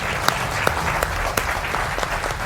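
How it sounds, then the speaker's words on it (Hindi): A television studio audience at a Hindi political debate show claps loudly and steadily, with a few sharper individual claps standing out. It is a short burst with no speech over it. "उनका जोरदार तालियों के साथ अभिनंदन है।"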